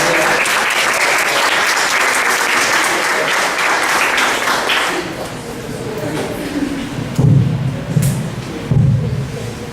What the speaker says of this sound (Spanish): Nuevamente un aplauso de la bienvenida.